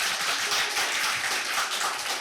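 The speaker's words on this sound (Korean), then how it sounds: "박수? 한번 해봐요." A Korean church congregation applauds during a Sunday sermon, a dense, steady wash of many hands clapping that lasts the whole stretch at moderate volume with no one speaking over it.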